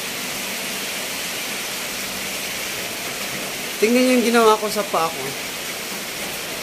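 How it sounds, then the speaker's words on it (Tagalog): Heavy rain pours during a December storm, a steady broad hiss of downpour throughout, with a person briefly speaking over it near the middle. "Ang lakas ang ulan."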